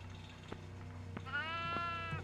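A goat bleats in the horror video game Devour, a single drawn-out, quavering cry that rises over a steady low background drone and a few faint knocks, with no talking.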